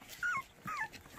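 A white puppy whimpers twice, two short high plaintive whines close by, with quiet pauses around them.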